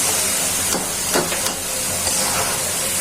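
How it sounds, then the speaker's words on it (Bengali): Bottle gourd pieces dropped into a pan of fried prawns, setting off a loud continuous sizzle and hiss with a few brief sharper crackles, close up and without voices. "এখন মাছটা কষানো হয়ে গেছে, লাউগুলো ছেড়ে দিচ্ছি।"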